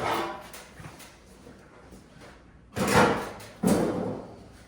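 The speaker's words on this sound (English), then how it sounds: "So let me pop this hood off, kind of show you what everything looks like." The hood comes off a Predator 212 Ghost live-axle mower build with two sharp knocks near the end, loud and close, after a stretch of quiet handling clatter.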